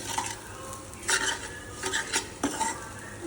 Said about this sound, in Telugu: 2 స్పూన్స్ పెట్టుకొని కలుపుతున్నాం